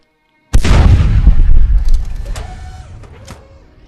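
Rockets slam into an armored ship in the Space Engineers video game, a sudden loud booming blast with rumbling impacts that rolls on and slowly fades, followed by a few fainter knocks.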